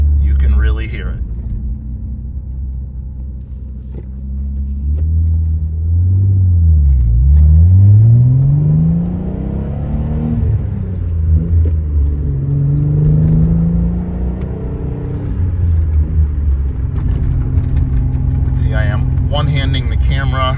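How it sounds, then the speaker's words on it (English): A 1990 Nissan 300ZX with a Billy Boat exhaust accelerates through the gears, loud throaty engine note rising and falling in pitch with shifts, close and continuous, a voice talking over it. "That fantastic sound of the billy boat exhaust"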